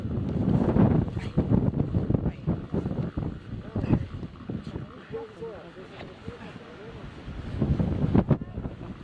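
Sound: strong wind gusts

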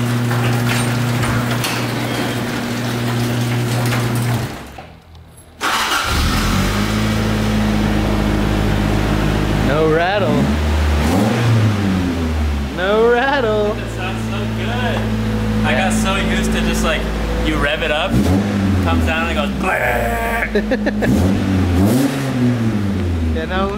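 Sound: Toyota AE86 car engine started and revving

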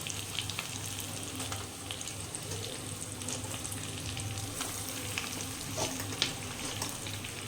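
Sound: potatoes frying and stirred in spice masala for aloo paratha

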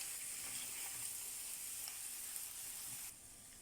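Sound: funchoza with chicken and vegetables frying in a pan

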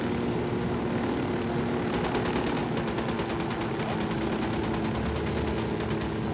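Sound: gunfire in video game Ghost Recon Wildlands

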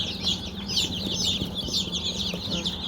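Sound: chicks, including naked-neck chickens

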